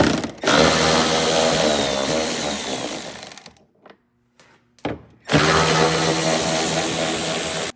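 A loud power tool whirs steadily while removing fender flare fasteners on a Jeep Defender, cutting out for a quiet gap with a couple of short bursts before running hard again.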